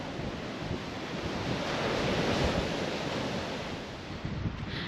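Sea waves wash onto a coastline near old building remnants, making a steady, full roar of surf. Gusty wind buffets the microphone throughout, with no voices.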